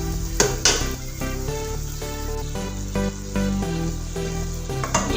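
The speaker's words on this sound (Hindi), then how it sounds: "अब मैं इनकी भुनाई स्टार्ट करूंगी।" Cooked mutton paya frying in a kadhai, a steady close sizzle with occasional spoon scrapes and clinks against the pan.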